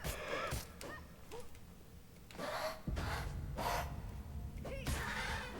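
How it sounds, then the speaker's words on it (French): A big chicken-like creature in the video game Gods Will Fall gives repeated honking squawks and gasping cries of varying length over a dense, noisy game background. "Un gros poulet."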